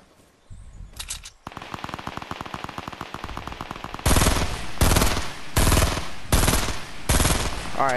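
Gunfire in the Fortnite battle royale game: rapid automatic bursts, starting lighter and then turning into loud, punchy volleys separated by short pauses, with no speech.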